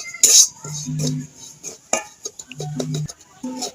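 A spoon stirs semolina frying in ghee in a metal pan, giving several distinct scraping clinks against the pan with short pauses between them. A voice speaks briefly.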